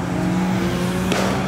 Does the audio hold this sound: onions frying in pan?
no